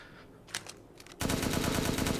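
Rapid automatic gunfire from unlimited ammunition in the video game Resident Evil Village bursts in loudly after a quieter second with a few faint clicks, then continues as a dense, steady stream of shots.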